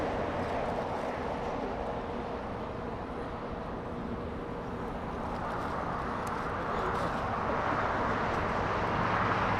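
A China Southern Boeing 777 rolls down runway 25 left at LAX on its takeoff run, a loud, broad jet roar that holds steady and swells toward the end.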